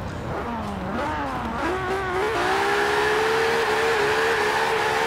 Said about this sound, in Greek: Κάνε ένα burnout της προκοπής, ρε Μίτσο.